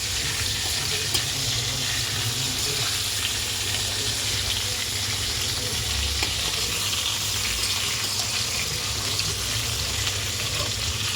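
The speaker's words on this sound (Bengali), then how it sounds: "মা এখানে এই যে ফুলকপি ভাজছে, এখানে আলু ভাজা, এখানে এই যে ডিম" Cauliflower, potatoes and egg fry in a pan in a home kitchen, giving a loud, continuous, even sizzle with a low rumbling undertone throughout.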